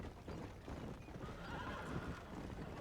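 Horse whinnying in Red Dead Redemption, a single clear neigh with hoof clip-clop, faint and distant in the game mix with no talk.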